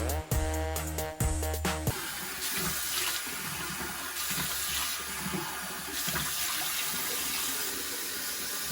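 Bathroom tap running for face washing with cold water, opening with rattling handling noises before a steady close hiss of water flowing into the sink for the rest of the clip.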